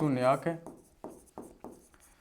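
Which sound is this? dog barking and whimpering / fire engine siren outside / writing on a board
writing on a board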